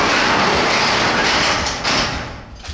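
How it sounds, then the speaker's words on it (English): A door on a Dodge Charger is pushed shut, with a rush of broadband noise building to a single solid thud near the end, close to the microphone. "Shut this door here."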